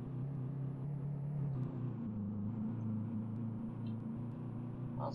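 A Mercedes S65 with a W12 engine in Euro Truck Simulator 2 runs with a steady low rumble and hum that holds evenly throughout, close and continuous with no voices over it.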